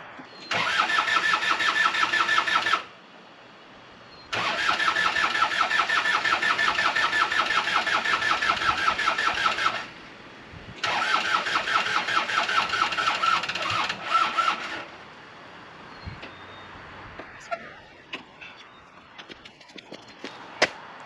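A CAT 302.5 mini excavator engine with a weak battery cranks in three long bursts, each a loud, rapid, rhythmic churning of several seconds, separated by brief pauses, then the effort stops and only faint scattered knocks and clicks follow.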